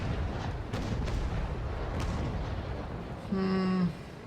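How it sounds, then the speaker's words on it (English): A sailing warship's cannon broadside fires in the Naval Action video game. Several dull, staggered booms roll over a constant background rumble, followed by a short tonal hum near the end. "Come on, 7 cannons we have, and fire. Aim, fire."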